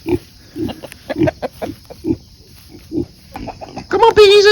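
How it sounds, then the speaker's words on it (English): Pigs grunt in short repeated snorts on a farm, close by, with a chicken or rooster squawking loudly near the end. "Come on, piggies, let's have some breakfast."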